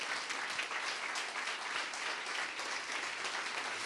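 Audience applause for local neighbours at the opening of a new cinema hall at Complejo Gran Rivadavia, a steady, even wash of many hands clapping, fairly quiet and distant.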